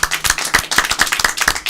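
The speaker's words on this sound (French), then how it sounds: "On peut applaudir la performance." An audience applauds after a Baschet sound sculpture performance, with quick, dense clapping from a small group in a short burst.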